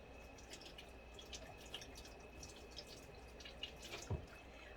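Running water from a tap drips and trickles softly while water glass eggs preserved in pickling lime are rinsed, with a faint steady flow and a few sharper splashes near the end.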